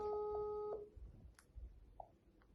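Outgoing telephone call ringing tone: steady electronic tone pulses in the first moments, then fainter repeating beeps over low room noise, fairly close and clear.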